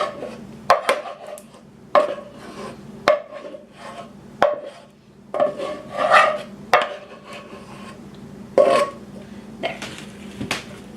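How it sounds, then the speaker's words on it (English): A spoon rasps and scrapes through Rice Krispies and green marshmallows in a small bowl, giving irregular close stirring strokes with sharp clicks against the bowl's side. "I'm just going to stir in all of my green marshmallows."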